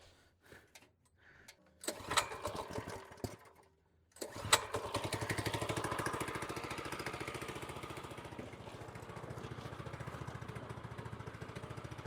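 An engine cranks over in a couple of short bursts, falls quiet, then catches and settles into a steady, rapid, chugging idle, moderately close with no voices.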